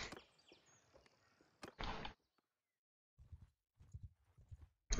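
Hooves clip-clop from a horse in the Bannerlord video game, a few sharp uneven steps and knocks at the start, then a pause before softer clusters of hoofbeats return, close and fairly quiet.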